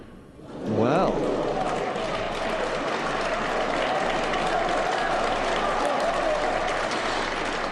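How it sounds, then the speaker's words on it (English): Snooker crowd bursts into sustained applause, dense clapping swelling quickly to full volume and holding steady, with a voice faintly audible over it at the start. "the crowd definitely trying to lift Ronnie here"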